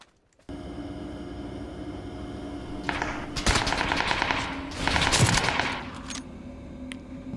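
Automatic gunfire from PUBG plays in rapid bursts over a steady game background hum, with a loud volley mid-clip and another near the end, no talk.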